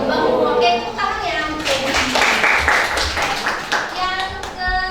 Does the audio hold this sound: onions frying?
no